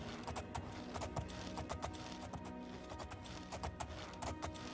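A horse's hooves clip-clop in the fantasy video game Oblivion, a quick, steady run of soft hoofbeats over a constant low background, no voices.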